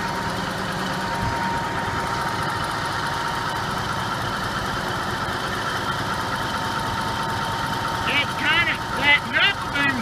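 A big wood chipper mounted on a pulling tractor runs with a steady, close engine drone and low rumble, and a voice speaks briefly near the end over the mechanical hum.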